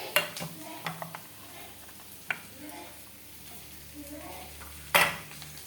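Egg chop filling stirred in a frying pan with a soft sizzle underneath and spoon scrapes against the pan, a few sharper knocks near the start and one loud clatter near the end.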